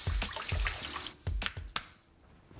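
Tap water rinses a beef ribeye steak in a kitchen, a loud splashing stream broken into rhythmic bursts as the meat is turned under it, then tapering to quieter drips.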